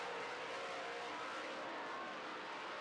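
Late model race cars battle around a racetrack in a feature race, their engines a continuous distant roar that blends into a steady wash of noise, with no close passes standing out.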